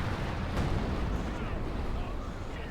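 A dense, continuous rumble of artillery barrage fills a Company of Heroes 2 battle, with overlapping blasts forming a loud, unbroken roar.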